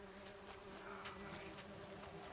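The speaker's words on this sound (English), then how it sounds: "Oh, more bees." Buzzing bees in the Witcher 3 game world, a steady continuous drone of several insects holding for the whole moment with no voices over it.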